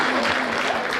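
Dense crowd clapping at a Hindi comedy poetry gathering, a short, steady burst of applause with a faint voice or tone running underneath.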